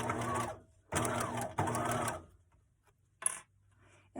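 A sewing machine back stitches fabric for a make-up bag with a zipper, running in three short whirring bursts separated by brief pauses, followed by a light click, close and fairly loud.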